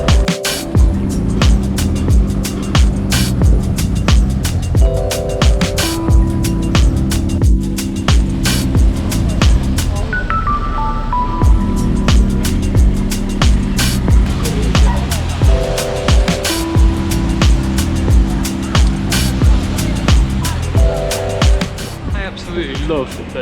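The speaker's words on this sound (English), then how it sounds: "Traffic." Busy London street traffic, cars and vehicles rumbling and passing continuously at close range for the whole stretch, loud and steady with engine swells and a brief lull midway.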